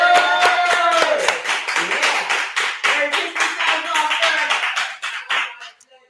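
A live studio audience claps loudly and steadily for about five seconds, the applause thinning and fading out near the end, with a voice faintly audible underneath.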